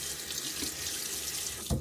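Water running steadily from a tap into a sink during a shave with cold, hard winter water, a continuous close hiss and splash that ends with a faint clunk.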